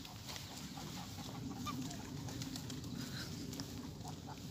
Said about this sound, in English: Over there, coot.